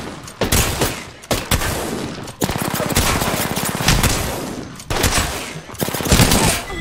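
Heavy Mastiff shotgun blasts in Apex Legends ring out in a rapid series of loud, close shots with brief pauses between volleys and no speech.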